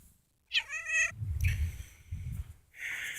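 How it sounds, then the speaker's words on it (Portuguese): A female cat meows loudly and close by, with a clear rising call followed by lower grumbling sounds and another shorter meow, set in a house near the roof ridge. "Gatinha."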